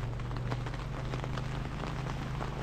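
Steady rain falls during a desert storm, a dense, even hiss of drops pattering on a hard surface with no breaks, close by and fairly loud, with no voices.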